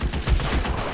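Gunfire in the 1940s crime game L.A. Noire, a dense, booming burst of shots filling the whole second with heavy low-end thumps.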